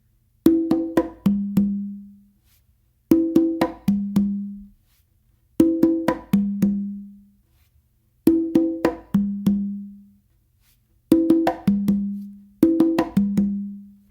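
Conga drum played in a weak tumbao exercise, six repeated groups of hand strokes mixing sharp slaps and ringing open tones, each group of quick hits ending on a resonant open note, close and alone with pauses between.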